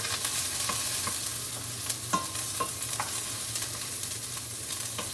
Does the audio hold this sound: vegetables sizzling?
yes